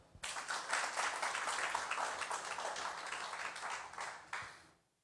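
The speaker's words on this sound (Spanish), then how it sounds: "Aplauso para el Señor." A church congregation at a Spanish-language service applauds, with steady clapping from many hands that lasts about five seconds, then tapers off and fades out.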